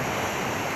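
Sea surf rolls steadily onto a shore as a continuous, dense wash of broadband noise, close and fairly loud, with no voices.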